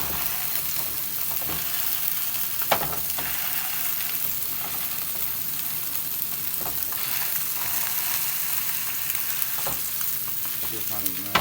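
Fish fries in a hot pan, filling the clip with a loud, steady, close crackling sizzle, broken by a few sharp pops and clicks; no one speaks.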